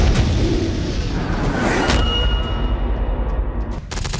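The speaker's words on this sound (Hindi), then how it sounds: "एक साथ 6 मल्टी बैरल रॉकेट लॉन्चर से फायरिंग की गई।" Chinese army multi-barrel rocket launchers fire together during a live-fire drill on a high plateau. Deep booming blasts and whooshing launches follow one another loudly and densely, ending with a sharp crackling burst.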